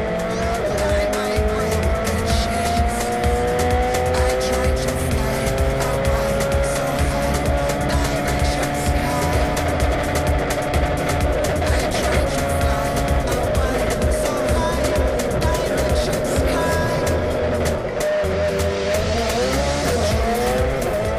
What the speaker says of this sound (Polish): Onboard z wnętrza samochodu Kojsza pokazuje, jak szybko rozpędza się jego samochód od startu aż do szykany.